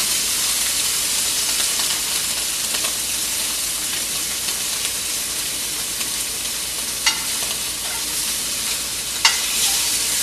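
Scallops sear in a hot cast iron pan, giving a loud, steady, close sizzle and hiss throughout. A couple of faint clicks and scrapes of the pan or a utensil sound over the frying.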